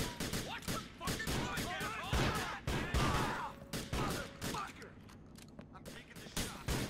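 Shotgun blasts from a sawed-off in Grand Theft Auto IV: The Lost and Damned ring out amid a busy firefight, sharp close reports mixed with other rapid gunfire, mechanical clicks and scattered chatter.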